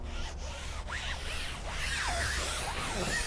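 Fingernails rub and scratch across the see-through material of a TideWe hunting blind, producing a soft, close, continuous rasping swish that is fairly quiet and steady throughout, with no talking.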